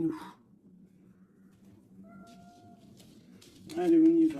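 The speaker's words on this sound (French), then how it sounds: "Ça, c'est minou" A cat gives a brief meow at the start and a louder, drawn-out meow near the end, both close by. A steady low hum runs underneath.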